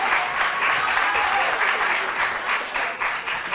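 Audience applause at a school quiz competition between Wesley Girls High School and Wallah's Academy, a dense steady burst of many hands clapping that holds at an even level throughout, with no voices over it.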